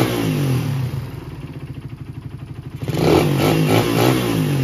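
Motorcycle engine fitted with a PE 28 TK Racing carburetor, just after an air adjustment, idles with a pulsing throb, then revs up sharply into a louder, rising roar, close and without voices.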